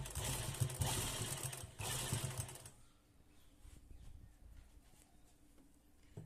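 A sewing machine stitches lace around a neckline, running loud and fast for a few seconds, then stopping and leaving a faint, quiet room.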